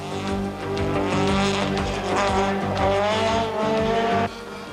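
Rally car from the 1989 Tour de Valvoline tearing along a tight course, engine loud and close with revving gear changes and brief tire squeal, dropping away near the end.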